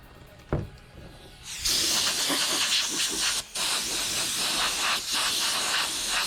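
An air compressor nozzle blows a loud, steady hiss of air to clear dust off a C8 Corvette engine cover, with a short click before and a brief break midway.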